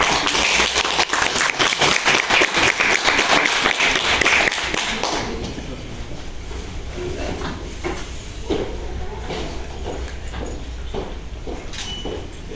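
Applause at a lecture on early Spanish literature, with dense, loud clapping for about four seconds that then thins into scattered, fading claps with faint room noise.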